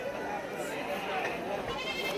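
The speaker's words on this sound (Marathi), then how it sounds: "पहा चांगल्या क्वालिटीच्या काठेवाडी शेळ्या विक्रीसाठी" Kathiawadi goats bleat at the busy Shirur goat market near Pune, their cries blurred into a constant crowd din with voices talking throughout.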